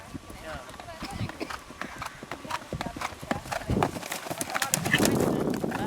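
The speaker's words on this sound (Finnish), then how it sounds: "Hyvä hevonen." A horse moves during a riding lesson, its hooves clip-clopping in a steady, rhythmic gait that grows louder toward the end, while an instructor talks over the hoofbeats.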